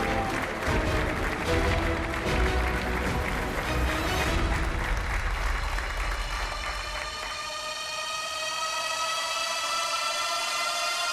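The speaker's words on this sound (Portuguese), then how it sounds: "Um aplauso para os dois." A television game show studio audience applauds two contestants on The Floor, a broad wash of clapping for several seconds that gives way to musical tones as it fades.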